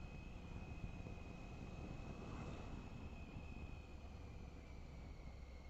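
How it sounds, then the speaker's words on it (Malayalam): Steady broadband wind roar buffets the microphone throughout while riding a motorcycle along the curvy Charmadi Ghat mountain road, continuous and fairly loud with no voices. "നല്ല കാറ്റുണ്ട്."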